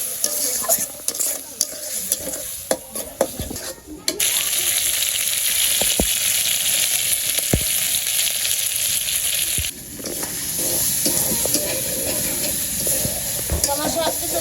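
Water poured into a pan of frying potato curry spices for aloo dum erupts into loud, sustained sizzling and hissing, with stirring scrapes and clinks throughout as the steam roars steadily.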